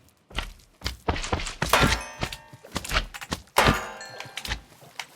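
Weapon strikes land on a big slime in a Minecraft modpack game, a series of sharp thunking and splatty hit sounds with bright clangs, irregularly spaced and loud, mixed with other game effects.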